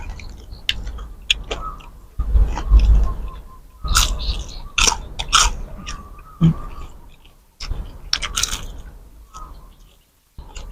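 Close crunchy chewing of crispy batter-fried pork belly with fish sauce, a series of loud crackling bites and chews in irregular bursts, with short quiet gaps between mouthfuls.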